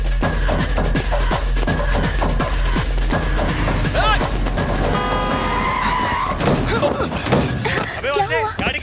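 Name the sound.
car skidding to a stop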